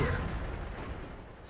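A tank cannon shot in the video game World of Tanks, a deep booming blast that rolls off into a fading rumble, heard alone.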